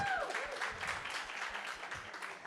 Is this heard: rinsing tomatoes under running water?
no